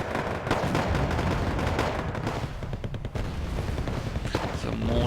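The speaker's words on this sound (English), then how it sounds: "Some mortars being fired." Mortars firing amid a dense battle in the video game Wargame AirLand Battle, repeated booming shots layered with continuous gunfire and explosions, with a voice talking over the din.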